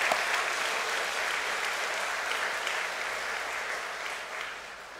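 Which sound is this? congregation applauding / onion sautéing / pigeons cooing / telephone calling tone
congregation applauding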